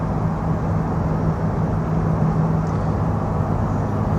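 A 1998 Dodge Caravan wheelchair-accessible minivan cruises straight down the highway, a steady broadband hum of road and wind noise with a low engine drone, even and continuous from inside the cabin.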